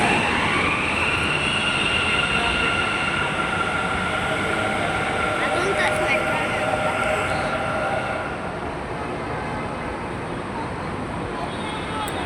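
Metro train running, a steady rumbling roar of wheels on rails with a high squealing whine above it, heard from inside the carriage, continuous and fairly loud with faint voices mixed in.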